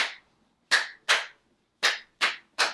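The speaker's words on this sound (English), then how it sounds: "Let's start by clapping this rhythm." Six sharp hand claps beat out a ukulele strumming rhythm in an uneven pattern of single claps and quick pairs, close and clear with silence between them.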